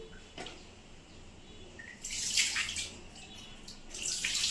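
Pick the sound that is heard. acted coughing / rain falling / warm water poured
warm water poured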